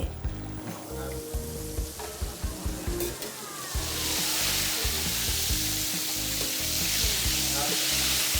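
Grouper pieces lightly coated in batter drop into hot oil, setting off a loud, steady sizzle that swells and broadens halfway through, with faint clinks from utensils early on.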